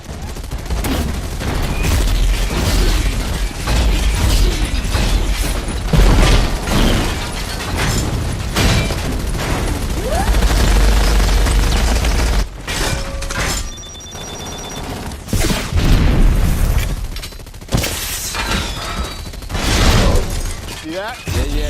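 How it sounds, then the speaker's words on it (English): Loud bursts of gunfire and crashing explosions pile up in a chaotic action scene from Iron Man 2, fighting drones, with shouted voices mixed in throughout. "when they kick ass and fight those drones and the explosions"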